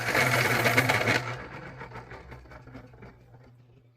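Crayola colored pencil being sharpened, a close grinding whir for about a second that then fades into lighter, scattered scraping and clicks as it winds down.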